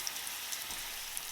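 Salmon sizzling in a pan over medium heat, a steady, soft hiss with faint crackles throughout.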